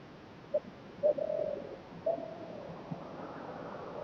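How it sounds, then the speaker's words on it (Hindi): A few soft, brief laughing dove coos sound at a distance over quiet outdoor background hiss in Kausani, Uttarakhand, irregularly spaced with one longer bubbling phrase. "It's a laughing Dove."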